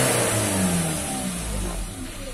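Close, loud revving of a Ford Ranger 2.2 diesel pickup with a turbo fault: the engine swells and falls in repeated rises, then settles toward a lower, steadier hum.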